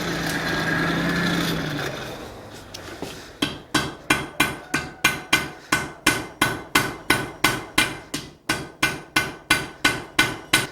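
A hammer strikes a fire poker on an anvil during forge welding, ringing out in a steady, evenly spaced series of loud, sharp metallic blows at close range after a brief roar of fire, with no talk.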